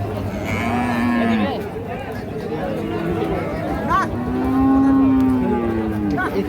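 Cattle moo repeatedly, low drawn-out calls rising over a noisy crowd of chattering voices at a busy livestock market in Sylhet selling Sahiwal bulls.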